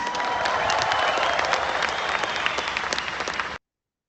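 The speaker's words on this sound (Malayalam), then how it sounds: "ഇപ്പൊ നിങ്ങൾ കുറെ പേര് കൈയടിച്ച് കേട്ടു" Applause from a large audience at a business motivational session, dense and sustained clapping with a few sharper claps standing out, then cutting off abruptly.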